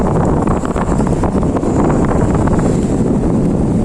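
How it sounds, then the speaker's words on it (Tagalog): Strong wind buffets the microphone in a loud, continuous roar with rough low-end gusts, no voices heard, at Salomague Seaport in Cabugao, Ilocos Sur, Philippines. "Ang lakas ng hangin"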